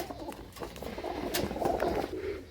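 Pigeons kept for flying competitions cooing in a low, soft, continuous murmur from nearby, with faint rustling and no talk.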